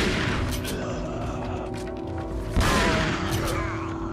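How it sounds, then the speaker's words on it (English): Shotgun blasts in Resident Evil 4, a heavy boom landing midway through a loud, busy mix of game noise and gunfire, with voices talking over it. "This shotgun sucks."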